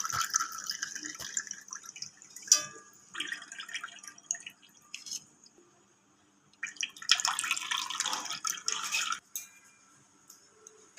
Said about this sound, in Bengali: আমি এবার ছেঁকে নেব জলটা।